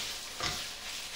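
Onion fries over gentle, medium-low heat in a pan while being stirred, giving a brief, soft sizzle with one short scraping swell midway and no talk.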